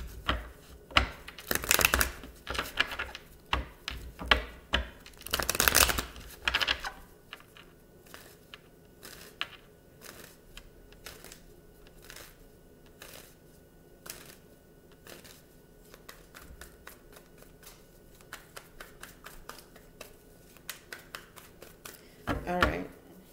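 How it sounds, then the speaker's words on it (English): Tarot cards are riffled and shuffled in quick bursts of crisp flutters and taps, loudest near the start, then settling into lighter repeated shuffling. "I'm going to shuffle up a few more times."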